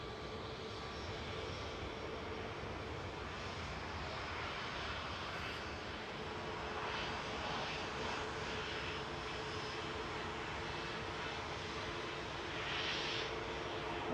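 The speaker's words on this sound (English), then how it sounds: "Etihad 77 from Abu Dhabi touching down, A6ETP," An Etihad Boeing 777-300ER arriving from Abu Dhabi touches down at Manchester Airport, giving a steady, distant jet roar that holds level throughout with little reverse thrust and no voices.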